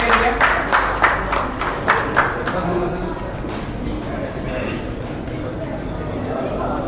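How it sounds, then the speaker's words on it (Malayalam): Audience clapping at a film crew honouring event in Kerala, a burst of scattered, rhythmic hand claps that swells into sustained applause, with a voice calling out over the crowd. "എല്ലാവരും കൈയടിക്കാം എല്ലാവരും കൈയടിക്കാം"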